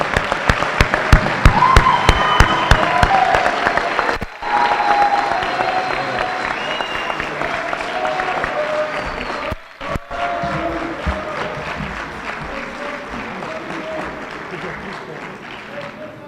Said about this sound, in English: They certainly deserve a hearty round of applause.